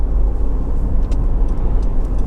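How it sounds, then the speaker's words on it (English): Honda CR-V 2.2 i-DTEC EX 4x4 on a test drive, braking hard into a corner: steady low road and engine rumble with tyre noise, a few faint squeaky ticks, no talk. "Just going to get to this corner and give the brakes a bit of a shove."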